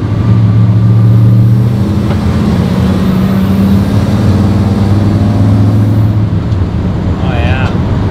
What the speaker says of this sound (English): Nice downshift there